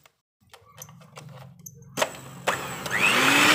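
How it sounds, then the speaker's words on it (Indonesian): An electric mixer whirs through apem batter while coconut milk is added, starting as faint scattered clinks and rattles, then rising after a couple of seconds into a louder, steady motor whine close by, with no voices. "Kemudian kita tambahkan semua santan dan kita mixer."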